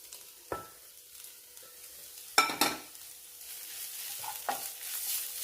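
Onions frying with spice powders in a pan for a Kerala-style Christmas pork curry: a steady broadband sizzle with a few short stirring scrapes and clatters, close and moderately loud, with no talking.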